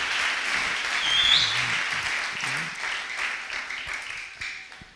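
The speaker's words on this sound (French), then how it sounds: "on peut acclamer encore le Seigneur" A church congregation at a French-language sermon on biblical covenants breaks into sustained, hissing applause that swells early and then gradually fades, with no talking over it.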